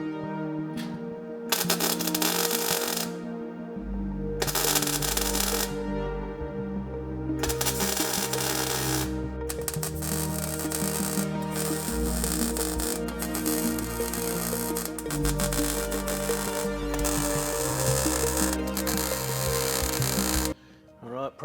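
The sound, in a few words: welding a car transmission tunnel, Mazda project car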